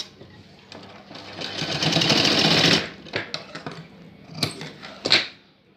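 A sewing machine runs in a steady burst while stitching the joint of a baby's box-pleat skirt, then stops for a few short clicks and brief whirs of repositioning, close and clear with no speech.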